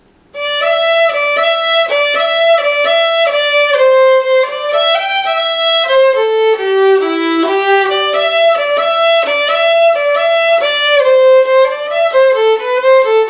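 Old Melinda, an old time fiddle tune, played straight through its third part at steady speed, a continuous bowed melody with clear, even note changes throughout.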